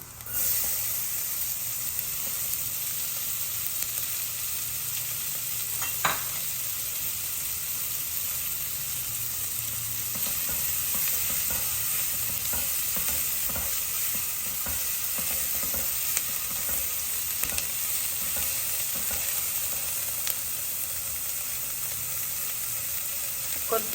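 Onions sizzle and fry in a pan while being stirred for sweet corn soup, a steady, close hiss with occasional scraping stirs throughout.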